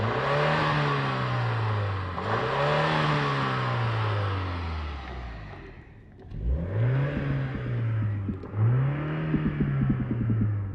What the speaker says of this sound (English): Would you like to listen to that exhaust from the outside?